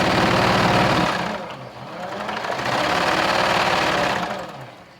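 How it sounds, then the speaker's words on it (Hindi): A domestic sewing machine stitches a stand collar on a kurti in close, loud runs, a brief pause between two bursts of whirring needle action that fade out at the end. "और फिर इस तरह से आप सिलाई लगाते हुए आगे बढ़ते जाइए।"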